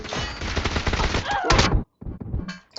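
Rapid P90 submachine gun fire in a video game, dense bursts of close, loud shots filling the first second and a half, then a short break and scattered shots later, with a voice talking faintly underneath.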